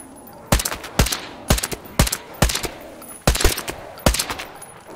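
Gunfire from the video game Metro Exodus crackles in sharp, evenly spaced bursts, about eight loud shots in five seconds, each ringing briefly before the next.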